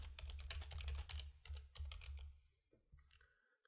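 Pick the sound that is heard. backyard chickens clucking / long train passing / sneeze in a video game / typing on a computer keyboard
typing on a computer keyboard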